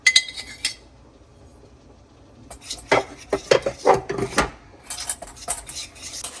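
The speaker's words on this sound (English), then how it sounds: "Now I'm going to stir that together." A spoon stirs and scrapes through a bowl of cobbler batter ingredients with salt and sugar, giving close, loud metallic clinks and scrapes in bursts, with a quiet pause between them.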